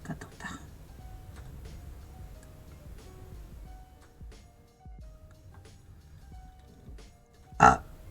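A single short, loud burp erupts near the end, following several seconds of quiet room noise with soft scattered clicks and faint murmuring.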